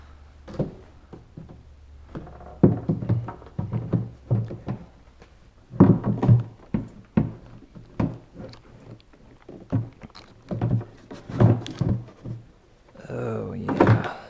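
IMS 4.5-gallon dry break plastic fuel tank being test fitted onto an FE 501s motorcycle, a series of irregular knocks, thuds and clunks close by, with occasional quiet speech.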